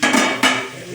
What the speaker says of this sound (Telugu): 5 నిమిషాలు మూత పెట్టుకోవాలి